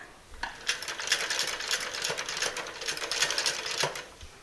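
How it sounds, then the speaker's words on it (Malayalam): A sewing machine stitches pleated fabric ruffles, its needle rattling in a fast, continuous mechanical patter with small pauses and clicks, loud and close. "എന്നിട്ട് നമ്മൾ തയ്ക്കുമ്പോൾ ഇതുവഴി ഇങ്ങനെ തയ്ച്ചു പോവുക"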